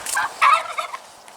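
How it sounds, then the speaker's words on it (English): Turkeys gobble in a quick, warbling burst, a couple of rattling calls close by with no talking. "don't know what the turkeys are yelling about."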